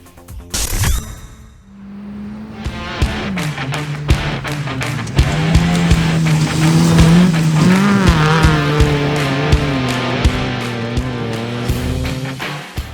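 Rallycross race cars at Round 5 of the Philippine Rallycross Series at Clark Global City: a close, loud engine that rises and falls through gear changes, with sharp pops and bursts of tyre noise, no talk.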